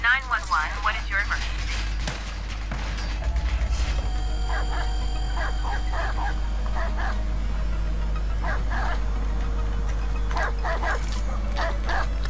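Dogs bark in Watch Dogs 2, a run of loud, close, rhythmic barks that keep coming in rapid bursts over a constant low rumble.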